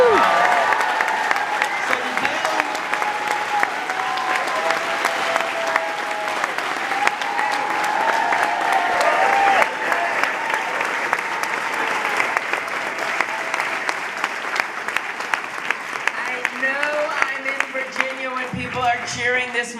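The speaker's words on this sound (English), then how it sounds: "Cheering this much for foreign policy" A large crowd at a presidential campaign rally in Falls Church, Virginia, claps and cheers loudly and continuously, with whoops rising over the dense applause.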